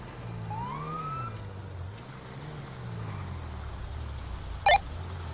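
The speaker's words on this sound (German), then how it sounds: "Er hat die ganze Zeit die Sirene an." Police siren in GTA V sounding from a tow truck, a rising and falling wail at moderate distance over engine rumble, with a brief sharp blip near the end.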